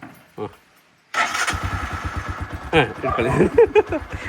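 A motorcycle, a bike ridden by a ten-month-old boy, catches after a short pause. It settles into a close, evenly pulsing idle while people talk and laugh over it.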